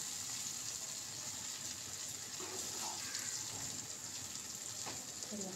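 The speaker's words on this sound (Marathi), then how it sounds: "आता पाणी घालून घेऊया आपण." Water poured into a cooking pan holding peas and onion, a steady hissing, gushing wash that runs evenly and fairly quietly throughout, with no voices.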